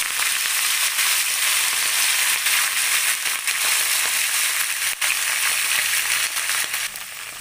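Spinach with stems dropped into hot oil, giving a loud, dense, continuous sizzle and crackle that holds steady close by with no talking.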